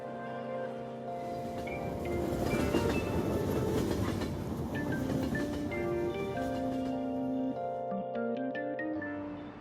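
Train running on rails in a video game, a steady rumbling rattle with rhythmic clicking of wheels over track joints, heard alone with tonal sounds over it toward the end.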